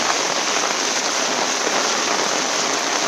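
Heavy monsoon downpour in Konkan pours down as a dense, unbroken hiss, loud and close, with no pauses and no voices.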